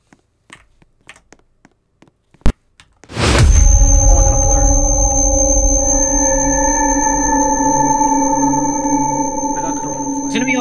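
A coronal flare sound in the video game Mineral Miners: a few sparse taps and knocks, then a sudden loud swelling burst that settles into a sustained layered electronic drone with steady tones and chirps.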